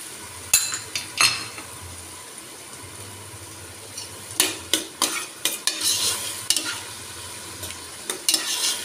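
Chopped tomatoes frying in oil for mutton salan, a constant sizzle punctuated by a rhythmic series of sharp spoon scrapes and clinks against the pan, close and loud, no voices.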